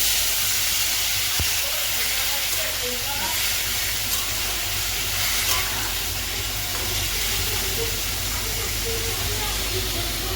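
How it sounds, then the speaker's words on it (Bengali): A little water poured into a hot frying pan holding turmeric-spiced food sets off a loud, steady sizzling hiss that continues at the same level throughout. "এবার হালকা একটুখানি জল দিয়ে দেবো।"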